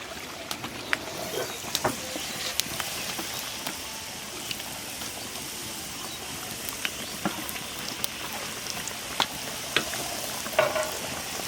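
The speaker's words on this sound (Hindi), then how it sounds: "तो यहीं पे हम पूरी डाल देते हैं।" Methi aloo puri frying in hot oil, a steady dense sizzle with scattered sharp pops and crackles, close and continuous, no talking.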